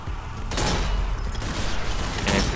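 Gunfire in the video game Zombie Army 4: a dense burst of loud, rapid shots and booms filling the whole stretch with no pause, up close and alone.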